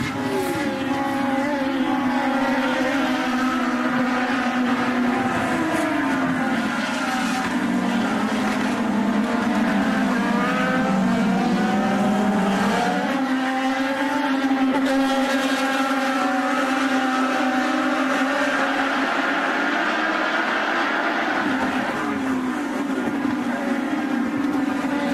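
IndyCar race cars at the 2011 Honda Indy Grand Prix of Alabama, their engines screaming in a continuous high-pitched wail that rises and falls as they pass and shift, loud and sustained for the whole stretch without commentary.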